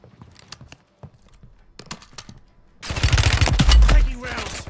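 Sharp isolated gunshots from Call of Duty Warzone, sparse at first, then a loud burst of rapid automatic fire with heavy low rumble near the end.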